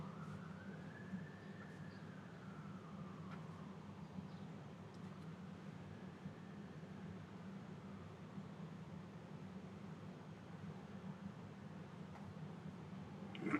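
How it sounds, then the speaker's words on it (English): Sirens wail faintly in the distance, rising and falling in slow sweeps over a low steady city rumble, distant and soft with no talk. "A lot of sirens."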